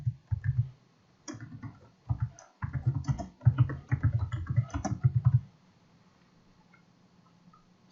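Bursts of quick keyboard typing on a computer, close and crisp, in several short runs separated by pauses, ending in quiet room tone.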